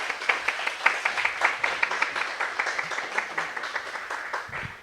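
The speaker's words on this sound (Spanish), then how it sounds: "Un aplauso, por favor." Audience at an academic colloquium on Chile's indigenous languages applauds a newly welcomed speaker, a steady round of close, bright claps lasting several seconds before tapering off at the end.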